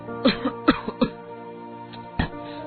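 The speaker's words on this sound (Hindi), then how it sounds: "तुम इस तरह खांस क्यों रहे हो?" Several sharp coughs from a person with a fever, in a quick cluster, a pause, then one more cough, close and fairly loud with no talking.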